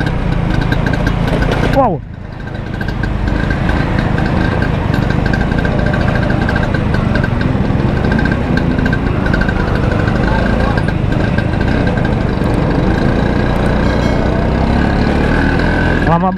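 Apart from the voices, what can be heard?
classic Vespa scooters riding past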